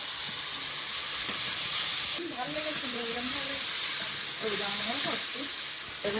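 Cumin, chopped garlic, onion, tomato and green chilli frying in hot oil with a dense steady sizzle, loud and close, with soft stirring scrapes and a brief voice partway through.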